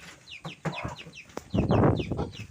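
Chickens cluck and chirp close by in quick, overlapping bursts, with small chicks peeping amid the rustling.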